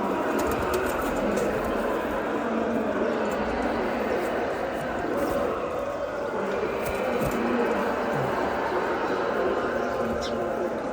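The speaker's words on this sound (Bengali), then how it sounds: "মাশাআল্লাহ, খুবই সুন্দর একটা কবুতর" A pigeon coos close by over a steady background hum, with soft repeated calls running through the whole stretch.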